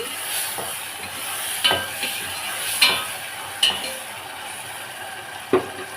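Spoon stirring ginger paste into a sizzling chicken and potato curry in a pan, with a steady fry hiss under several sharp scrapes and clinks against the metal.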